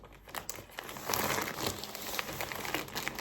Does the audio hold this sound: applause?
no